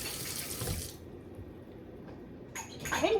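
Tap water runs into a sink during washing, a hissing gush that stops abruptly, followed by quieter handling noises and a brief renewed splash near the end.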